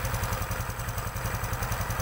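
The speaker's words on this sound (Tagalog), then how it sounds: "Ganda ng buga ng injector. Rinig na rinig." Honda XRM 125 Fi motorcycle engine idling after a general overhaul, a steady close-up putter with fast regular pulses and a light ticking clatter from the fuel injector, no talking.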